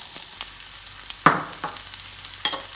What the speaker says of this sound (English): I'm going to start by adding our 1 sliced onion